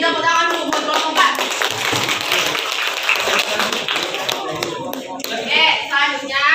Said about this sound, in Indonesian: Beri tepuk tangan dulu buat kelompok 4.